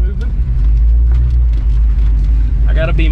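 A 5.0 Mustang GT with very low suspension, bought cheap at auction, rolls in reverse. Its engine gives a loud, steady, deep rumble close by for the whole stretch, with some voices faintly in the background.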